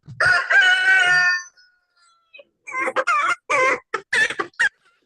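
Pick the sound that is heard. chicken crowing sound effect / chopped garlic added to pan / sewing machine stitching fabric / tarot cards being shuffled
chicken crowing sound effect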